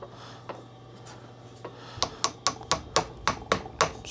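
Hammer tapping a new spacer into a part held flat in a vise while refurbishing a John Deere LA145 lawn tractor, a few scattered taps, then about nine sharp, steady metallic blows, close.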